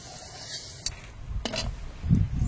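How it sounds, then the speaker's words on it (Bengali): An egg fries in oil with turmeric, giving a soft, close sizzle broken by a few brief scrapes and taps of a spatula against the pan. "এই তেলের মধ্যে হলুদ দিয়ে ডিমটা ভাজলে ডিমের একটা দারুণ কালার আছে"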